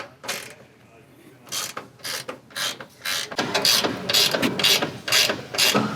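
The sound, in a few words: ratchet undoing strut top nuts on Ford F-150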